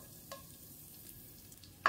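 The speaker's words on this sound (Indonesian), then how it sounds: "Saya mau menumis dulu bawang merah dan bawang putih." Shallots and garlic sauté in hot cooking oil for Mie Aceh, a steady soft sizzle with a few faint stirring clicks and a sharp clatter at the end.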